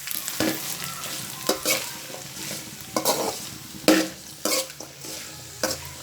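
Half-boiled beans and cauliflower stir-fried in a pan, with a steady sizzle cut by repeated scraping stirs and clinks of a spatula against the pan, close and fairly loud, with no talking.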